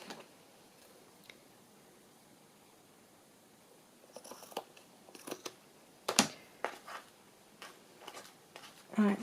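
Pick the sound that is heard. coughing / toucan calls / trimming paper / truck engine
trimming paper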